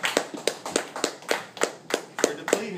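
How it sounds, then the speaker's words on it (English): An audience at a coffee-shop open mic claps to welcome a comedian, with sharp, fairly steady claps repeating at a brisk, regular rhythm. "Let's hear a round of applause for Mr."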